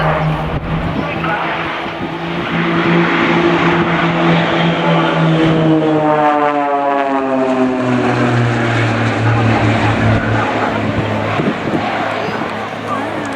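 Propeller aircraft of the Blades aerobatic team flying in formation at the RNAS Culdrose air day, a loud engine drone that shifts in pitch as the planes pass overhead, with a commentator talking over it.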